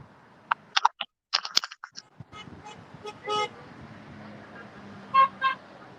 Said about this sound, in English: Yes, there's a lot of honking going on.